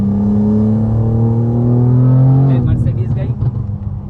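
A BMW M4 revs hard as it accelerates to overtake other cars at a large car meet in India, its engine note climbing steadily before shifting abruptly, close and loud throughout.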